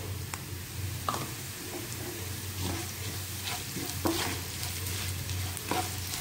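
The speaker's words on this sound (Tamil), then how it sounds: "இப்போ வெங்காயம் வதங்கிடுச்சு" Onions sizzle steadily in a hot pan with a little chilli powder, a spoon scraping and stirring at intervals, close up and with no talking.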